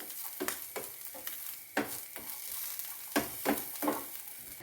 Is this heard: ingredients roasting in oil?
yes